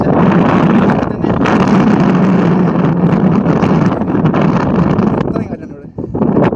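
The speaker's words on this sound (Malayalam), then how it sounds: "ഇത്രയും കാറ്റുണ്ട് ഇവിടെ." Strong wind buffets the microphone on an open trekking hillside, a loud continuous roar that fills the whole stretch with only a brief dip near the end.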